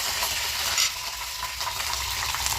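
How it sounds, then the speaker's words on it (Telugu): Garlic, dried red chillies and curry leaves fry in oil as a tempering for a village-style raw mango chutney, a steady close sizzle with light stirring scrapes and no talk. "నా మామిడికాయ పచ్చడి అయితే ఆయిల్లో బాగా పచ్చివాసన పోయేంత వరకు వేయించుకోవాలండి"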